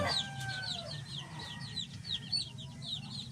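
Several chickens cluck in quick, repeated bursts close by, with a steady low rumble underneath.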